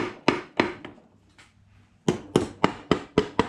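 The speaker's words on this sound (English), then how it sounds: "I should be able to just tap this case a little bit." Light taps on the metal case of a fishing reel during a rebuild, sharp close knocks: three spaced hits, a quiet pause, then a quicker run of about six taps.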